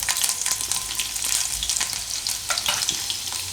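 Garlic hits hot oil in a pan for a fenugreek-leaf gravy dish, giving a loud, dense crackling sizzle with quick popping spits, close and steady for a few seconds.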